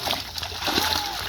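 Fish are thrown into the water of a pond at Meyemora Khad, giving a continuous loud splashing and sloshing with voices talking over it outdoors.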